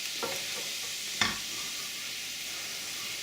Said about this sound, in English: we're just going to chuck a little glug of wine on top of that. Deglaze our pan, get all the crispy bits off. Give that a bit of a stir down.